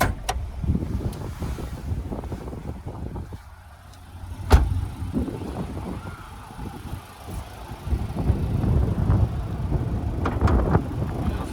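A 2021 Mitsubishi Outlander ES engine idles steadily at close range, a continuous low rumble with some wind buffeting, dipping briefly before returning to a fuller, rougher hum.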